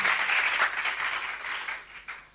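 A congregation applauds inside a church, a steady wash of clapping from many hands that stays loud and dense throughout, then tapers slightly near the end.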